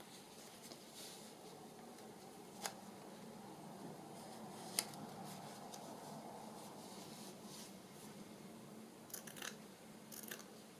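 Scissors snip through embroidered fabric to trim a sewing journal pocket, giving a few quiet, sparse cuts with soft rustling between them.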